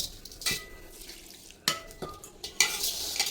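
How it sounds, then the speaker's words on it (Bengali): Flattened rice being dry-fried with salt and a little water in a pan, with close scraping and stirring strokes, a few sharp spoon-against-pan knocks and a faint sizzle underneath. "এক চুলায় চিরা ভাজা হচ্ছে"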